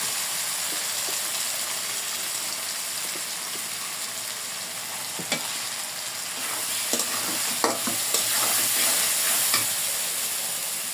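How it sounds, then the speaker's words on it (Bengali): Garlic, cumin-coriander and dried chili pastes with turmeric and salt frying in oil alongside potato, stirred continuously: a soft, even sizzle with light scrapes and a few sharper clicks of the spoon against the pan. "তেলের সাথে মশলাটা ভালোভাবে একটু নাড়াচাড়া করে"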